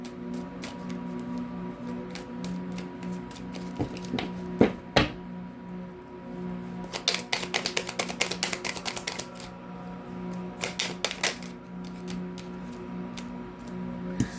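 Tarot-style cards drawn and shuffled by hand: soft rustling under a low hum, then quick bursts of crisp flicking and riffling clicks, close and moderately loud, with no talking.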